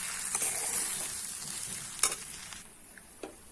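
A spoon stirs pre-roasted semolina with a little sugar in a pan while making rasmalai or malai cham cham. Steady close scraping and soft sizzling continue throughout, with a few sharper clicks along the way.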